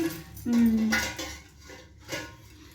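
Boiled chana dal being mashed and pressed in a metal pot, heard as short scraping and clinking utensil sounds against the metal, close and moderately loud.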